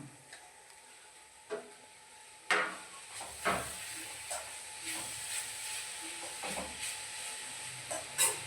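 Soft hissing and steamy sizzle from chopped tomato sautéing in a pan for roadside-style parotta salna, with occasional clinks and scraping stirs at irregular intervals.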